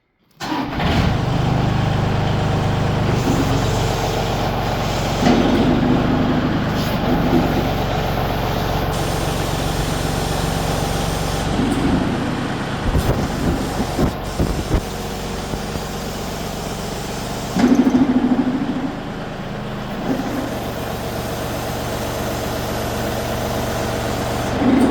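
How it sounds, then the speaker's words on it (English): A utility tractor fitted with a three-point rear snow blade runs at low idle, giving a steady, close, throbbing engine drone with small fluctuations and a few clanks, and no talking. "it might be a little hard to hear me talking when the tractor's running, but I'm going to leave it at a low idle"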